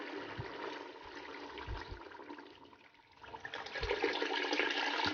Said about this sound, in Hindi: अब हम इसके अंदर पानी ऐड करेंगे